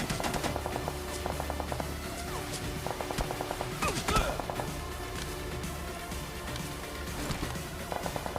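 In the battle royale game BGMI, repeated short bursts of gunfire rattle amid game ambience, with a louder crack and impact near the middle of the clip.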